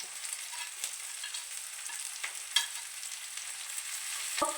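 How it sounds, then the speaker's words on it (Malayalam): Green chillies and onion hit hot oil in a Kerala home kitchen, making a continuous bright sizzle with scattered crackles and a few sharp stirring taps, and no voices. "എണ്ണ ഒന്ന് ചൂടാവട്ടെ പച്ചമുളക് ഇടത്തുള്ളി ഇടുന്നു സവാള ഇടണം"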